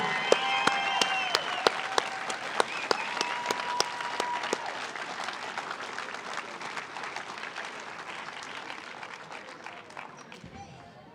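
An audience claps loudly at first, with sharp individual claps and a few whoops, then the applause gradually fades while someone talks over it.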